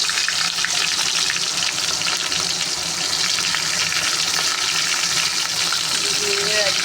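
Sliced onions hit half a cup of hot ghee and fry with a loud, continuous, close-up sizzle that holds steady throughout, a faint voice briefly audible beneath it.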